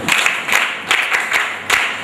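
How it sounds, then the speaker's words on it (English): Children clapping together in bursts after a story reading, a series of short uneven rounds of applause, fairly close and clear. "Okay, then clap for me"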